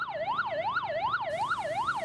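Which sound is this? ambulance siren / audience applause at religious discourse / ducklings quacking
ambulance siren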